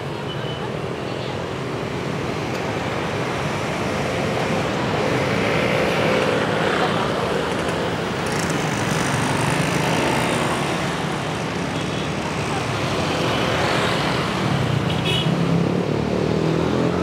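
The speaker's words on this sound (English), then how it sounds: "Endless traffic." Endless road traffic on a city walk, a steady broadband wash of passing cars and engines continuing throughout, fairly loud and close with no clear breaks.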